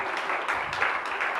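A crowd applauds at a hotel inauguration ceremony, a soft, steady patter of many hands clapping at a distance, faint and continuous throughout.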